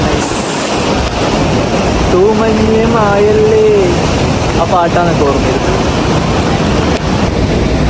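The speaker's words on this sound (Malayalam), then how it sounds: "ഇപ്പോൾ മഴയും പെയ്യാൻ തുടങ്ങി." Rain falling at a waterfall viewpoint in Karnataka makes a steady, loud broadband rush that fills the whole scene while someone talks and half-sings over it.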